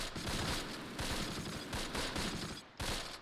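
A machine gun opens up in the wartime strategy game Close Combat Last Stand Arnhem, set around the Nijmegen and Arnhem bridges: loud, rapid rattling bursts broken by one brief gap before the firing resumes.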